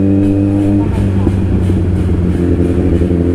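A stationary motorcycle engine held at high RPM gives a loud, steady, buzzing drone close by that stays strong for the whole stretch, with a slight wavering in pitch.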